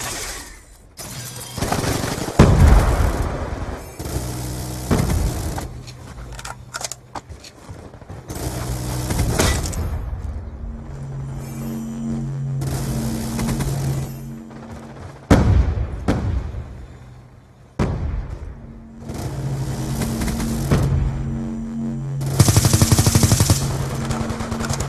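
A sentry gun turret in Black Ops 2 fires long, loud automatic bursts again and again, the rapid gunfire broken by short pauses and mixed with other battle noise.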